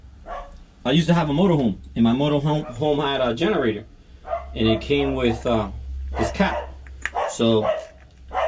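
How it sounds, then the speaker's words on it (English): A dog barks repeatedly outside during a generator oil change, the sharp yaps and barks mixing with someone talking nearby. "My dog is going crazy outside like usual."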